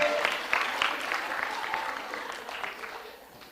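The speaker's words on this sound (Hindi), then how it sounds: "माही मॉडवेल के लिए जोरदार तालियां, जोरदार तालियां माही के लिए" Audience applause for a contestant at a Dev Anand quiz show, a steady wash of clapping that starts fairly loud and slowly fades across the stretch.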